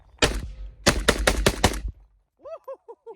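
A Palmetto State Armory AK-47 rifle fires a fast string of loud, sharp gunshots outdoors, one shot and then a rapid cluster of about six, followed by brief tonal chirps after the shooting stops.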